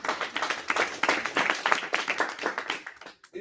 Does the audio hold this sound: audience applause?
yes